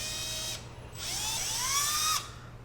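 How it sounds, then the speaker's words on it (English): A power drill whines in two short bursts, the motor pitch rising then dipping as the bit bites into the heavy plastic resin handle of a prop gun, close and fairly quiet. "I'm going to drill a hole right here in the back of this handle."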